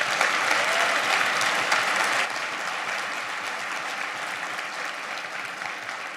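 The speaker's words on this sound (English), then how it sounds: "Can we please give my staff a round of applause?" Audience at a high school graduation ceremony giving school staff a loud, sustained round of applause, a dense wash of many hands clapping that eases slightly partway through but stays strong to the end.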